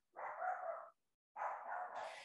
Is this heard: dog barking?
yes